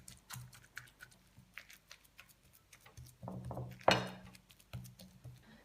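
Steamed pumpkin and purple sweet potato are mashed into paste in a bowl, giving a run of light, irregular taps and soft thuds of a utensil, one sharper clack near the end.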